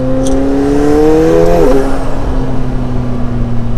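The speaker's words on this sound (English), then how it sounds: "Definitely more crackles and pops. The exhaust sounds better." McLaren 720S Spider sport exhaust in track mode: a loud engine pull heard from the cabin, rising in pitch before an abrupt drop at a shift or lift-off, then settling into a lower steady drone.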